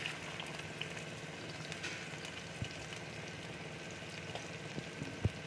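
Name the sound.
capsicum frying in hot oil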